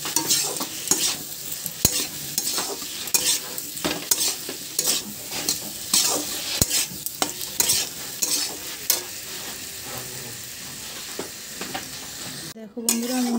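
Turmeric and salt being stirred into Tangra fish in a pan for Tangra macher jhal, with rapid repeated spatula scrapes and knocks over a steady sizzle, close and fairly loud, no talking.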